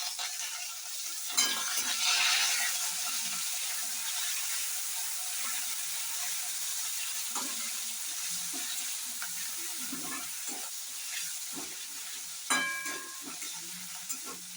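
Ginger fries in a hot kadai with a steady, bright sizzle throughout, broken by a few louder scraping stirs up close.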